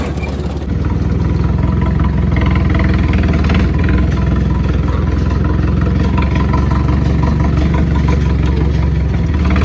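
A loud Mahindra 475 DI tractor engine runs steadily throughout, a low continuous rumble with no breaks, idling close by.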